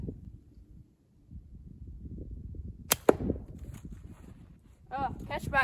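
A Torque slingshot fires heavy 7/16 ammo downrange into a catchbox, giving two sharp, loud snaps close together near the middle, over low background rumble, with brief voices or noises toward the end.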